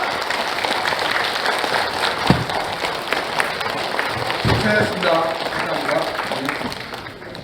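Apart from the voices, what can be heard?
standing audience applause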